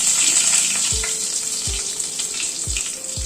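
Whole spices (cinnamon, cracked cardamom, cloves, bay leaves) crackling in hot oil for tempering, a steady close sizzle punctuated by four sharp pops or thumps spaced roughly evenly.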